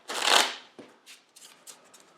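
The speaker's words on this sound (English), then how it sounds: "what we do then is shuffle these up into a single deck" Playing cards shuffled together into a single deck for the board game Barbarians: The Invasion, one quick riffling burst up close followed by a few soft taps and shuffles as the cards settle.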